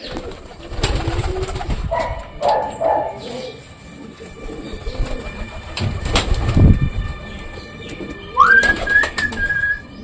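Pigeons coo in low murmuring bursts nearby at feeding time, mixed with rustling, a dog barking briefly and a rising whistle-like tone near the end.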